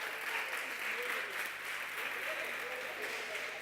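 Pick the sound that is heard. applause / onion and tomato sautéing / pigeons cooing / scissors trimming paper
applause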